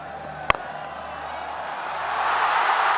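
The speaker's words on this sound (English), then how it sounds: "You will know why the crowd is roaring." Crowd in a cricket stadium during a Pakistan vs South Africa ODI, a broad steady roar that swells louder toward the end after one sharp crack.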